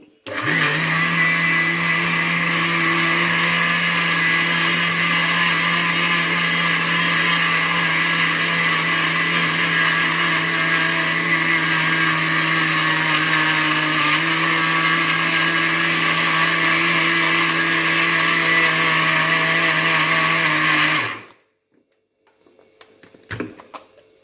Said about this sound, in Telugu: మళ్ళీ మూడు కలిపి మిక్సీ చేసుకోవాలి